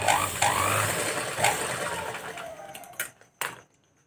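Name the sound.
sewing machine stitching tucks on fabric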